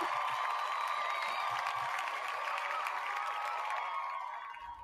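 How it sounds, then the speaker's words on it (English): Steady, dense applause from a crowd at a live auction, sustained at an even level for several seconds and tapering slightly at the end. "you got some more applause coming to you"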